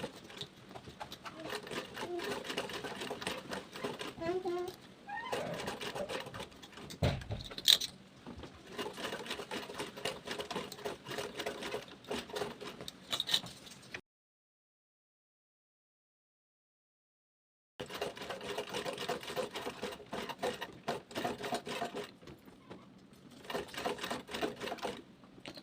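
A sewing machine stitches a bag in quick rapid-fire bursts of mechanical clatter, close and fairly soft, pausing briefly between runs with one longer silent break before it resumes.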